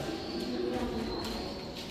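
Pigeons at Panhalgad fort give soft cooing under a constant low rumble, the calls faint and blending into the ambient din.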